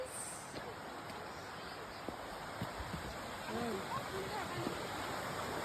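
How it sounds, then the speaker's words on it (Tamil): Water running down from a mountain stream, a steady broadband rush of flowing water that holds throughout, with faint background voices. "இது எல்லாமே மேலே மலை மேலேருந்து வர தண்ணி."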